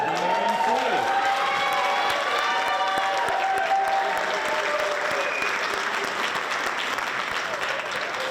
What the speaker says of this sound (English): we need to give Grace a round of applause